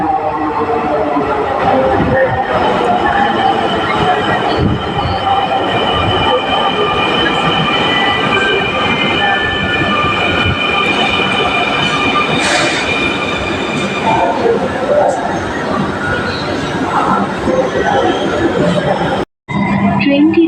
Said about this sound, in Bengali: এই তো রেল চলে আসছে